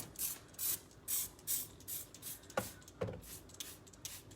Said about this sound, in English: I'm gonna spray on the sides.